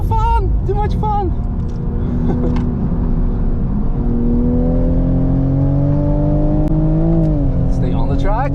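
The Bilstein Supra's engine pulls hard on the Dijon race track with its tires hot, its tone climbing steadily in pitch as it accelerates, loud and close, with a voice talking over it.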